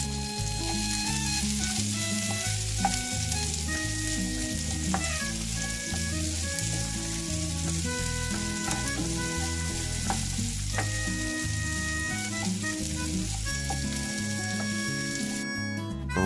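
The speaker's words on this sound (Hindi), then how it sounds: "प्याज को मैंने हाफ फ्राई कर लिए" Coarsely chopped medium onion half-frying in leftover oil in a pan, a steady, dense sizzle that runs throughout, with tonal background music layered over it.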